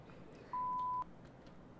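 A single steady electronic phone tone in a Roblox game, a short flat beep lasting about half a second amid faint background noise.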